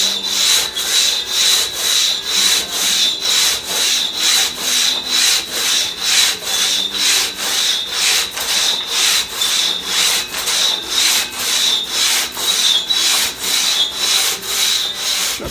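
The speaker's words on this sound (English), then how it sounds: "based on what I was cutting it with my good saws, which was 13, 14 strokes, probably should cut this in about 16 strokes" A hand saw cuts through a wooden log in steady, even back-and-forth strokes, each a rasping sweep, close and clear with no talk.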